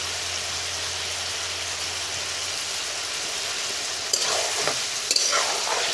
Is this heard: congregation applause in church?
no